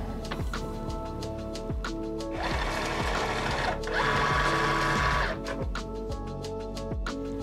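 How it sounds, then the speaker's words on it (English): A vinyl cutting machine draws a cutting mat in past its pinch wheels, giving a steady mechanical whir with a louder motor run in the middle, close and clear, with no talking. "I'm gonna push it up against the pinch wheel and hit the load mat button."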